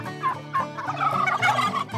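A turkey gobbling in several rapid, warbling bursts, close and loud, with no talking.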